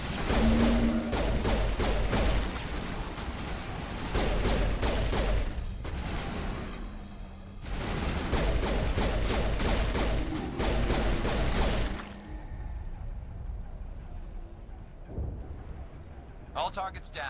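Rapid gunfire bursts from the video game Mass Effect Legendary, loud dense volleys of shots with a pause between them, then a quieter stretch, with voices talking over parts.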